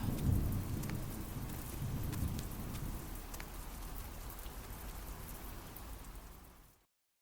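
Steady rain pours down with a dense hiss, rumbling low in the first few seconds, then continuing evenly before cutting off.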